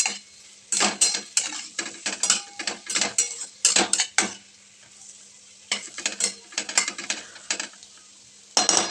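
Potato sabzi with fresh coriander being stirred and sautéed in a pan, with repeated scraping and clinking of a spatula against the pan over a soft sizzle, in bursts separated by brief pauses.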